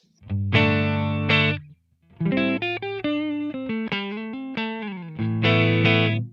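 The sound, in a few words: electric guitar through effects pedal amp model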